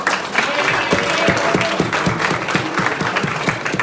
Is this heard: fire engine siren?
no